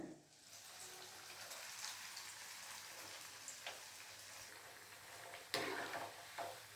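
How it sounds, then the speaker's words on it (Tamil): Bread slices fry two at a time in a pan, a soft continuous sizzle broken by a few sharp crackles and utensil taps, fairly quiet and without talk. "ரெண்டு ரெண்டாக வறுத்து எடுத்துக்கிறேன்"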